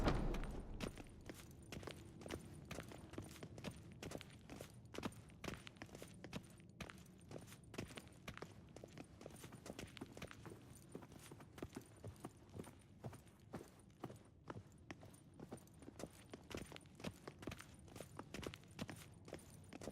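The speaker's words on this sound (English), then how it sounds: "Footsteps." Footsteps approach in The Witcher 3, a steady run of sharp, evenly spaced hard-surface clops that sound like hooves, quiet and continuous with no talk over them.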